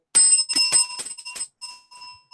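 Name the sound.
small hand bell being rung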